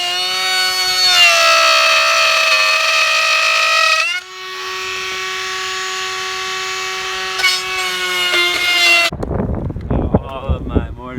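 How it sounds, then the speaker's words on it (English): A power drill whines steadily while cutting mortises in wood for a Greenland kayak, a loud tonal motor drone that shifts pitch partway through, then stops, leaving a few close knocks and handling noises. "So my mortises are drilled down to 1/4 inch, so I just need to take them all the way down to a 1/2 inch."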